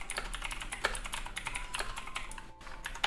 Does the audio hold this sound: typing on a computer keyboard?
yes